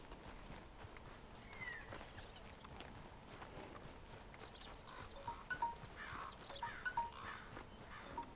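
Horse hooves clip-clop in Red Dead Redemption 2, a quiet rhythmic trot under faint outdoor ambience with occasional bird calls.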